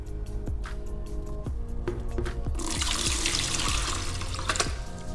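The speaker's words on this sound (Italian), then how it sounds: "travasare il tutto in una caraffa più grande per evitare poi" Blended nettle and water poured from one container into a larger jug for homemade nettle granita, a steady liquid trickle and splash running for several seconds with no voices.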